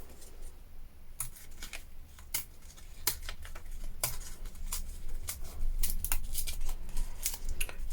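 Scissors snip through a square of paper for a junk journal bee page, a rapid run of crisp, close cuts that speeds up and grows louder toward the end, with no talking.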